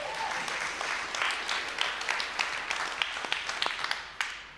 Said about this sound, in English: welcome everybody that may be new in the room with a nice round of applause